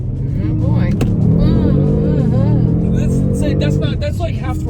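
A 2018 Kia Stinger GT2 AWD pulls hard at half throttle, its loud engine note rising steadily with rumbling, harmonic tones, heard from inside the cabin with voices talking over it.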